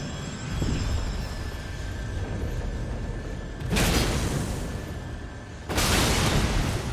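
Two loud, broad explosions in Elden Ring, fighting Rykard the Blasphemous, the first about halfway through and the second near the end, each a sudden wide burst that rolls on over a steady rumbling game background.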